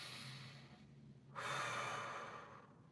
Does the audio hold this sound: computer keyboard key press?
no